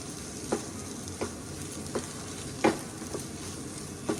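Chilli powder being stirred into melted ghee and butter in a pan for pav bhaji, with a steady low sizzle and several soft scraping strokes of the spoon, close and alone.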